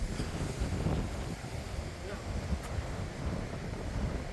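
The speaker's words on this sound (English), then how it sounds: "The wind is horrific now, like." Strong wind outside a mountain bothy in Snowdonia, a low roaring rumble that buffets steadily and muffled from indoors, with people talking over it.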